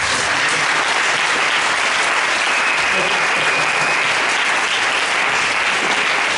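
A church congregation applauds during a Sunday worship service, a steady, full round of clapping from many hands that fills the room and never lets up.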